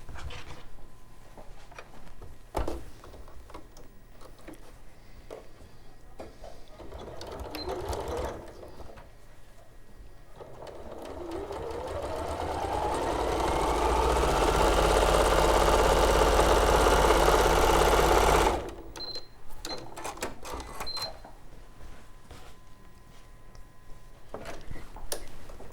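A sewing machine stitches the pocket of a Pauline dress in one steady run of about eight seconds, its motor hum rising and holding loud and close before stopping abruptly, with quieter handling noises on either side.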